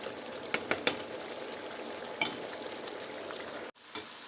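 Kofta meatballs cook in water in a pan, giving a faint, steady sizzle and simmer with a few soft clicks and utensil taps.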